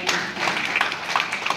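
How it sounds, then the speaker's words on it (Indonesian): Audience members at a talk on healthy, quality families clap for a short moment, a quick patter of hand claps with a few distinct louder taps. "tepuk tangan untuk Bapak Ibu"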